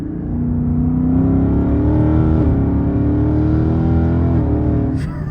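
Ford Mustang GT with an automatic transmission and paddle shifters accelerates hard, the engine note rising steadily in a loud, close, continuous pull with a brief dip as it upshifts.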